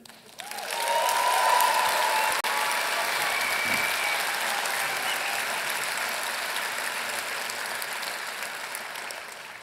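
Sustained applause from an audience, a dense wash of clapping that swells quickly and holds steady before slowly thinning out.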